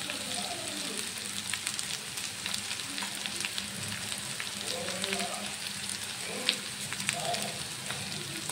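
Carrot, cabbage and other vegetables with shredded roti noodles sizzle and fry in a pan, a steady soft crackle throughout with faint scraping of stirring.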